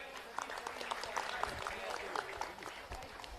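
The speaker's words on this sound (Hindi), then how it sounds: "एक बार जोरदार तालियां" Crowd applause at a Ram Katha religious gathering, a moderate steady patter of clapping lasting several seconds with voices mixed in underneath.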